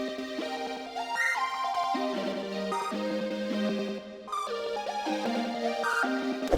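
A synth melody layer in FL Studio run through a custom Grossbeat preset. The notes are chopped and stuttered into a rhythmic, gated pattern with short breaks, reshaping the line into a new counter melody. It plays alone with no talking.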